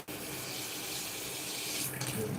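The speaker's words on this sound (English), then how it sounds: "I'm gonna add water again to it." Water running from a tap into semolina, a steady close splashing gush lasting a couple of seconds, with a brief shift in tone near the end.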